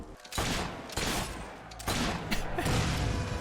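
Rapid bursts of video game gunfire from Fable 3, loud, dense volleys of shots in several clusters that repeat across the whole stretch with no talking.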